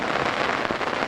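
Steady rain hisses across a disc golf course, a dense, even wash of drops with no voices, filling the whole short stretch.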